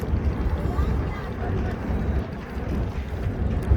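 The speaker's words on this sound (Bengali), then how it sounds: "একটা বড় ট্রলার আসছে প্রচুর মানুষ ট্রলারে" A large trawler crowded with people and motorcycles approaches on the shallow, stony Jadukata River, its low engine drone steady and close amid wind noise on the microphone.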